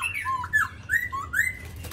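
A caged black-throated laughingthrush sings in short, rising whistled phrases with squawky notes, about four bursts in two seconds, close and clear over a quiet background.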